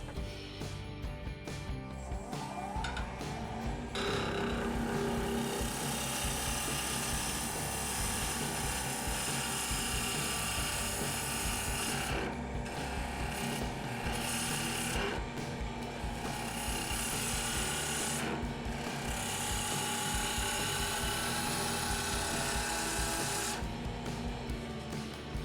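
Wax is rubbed onto a French rolling pin while it spins on a wood lathe. A steady, loud motor hum and whir runs throughout, with a brighter friction hiss and a few brief dips.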